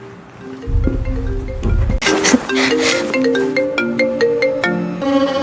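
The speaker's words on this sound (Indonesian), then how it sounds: "anehnya suara dering justru terdengar dari apartemen sebelah" Phone ringtone sounding from a neighbouring apartment, a bright electronic melody repeating note patterns over several seconds, loud and continuous with no voices.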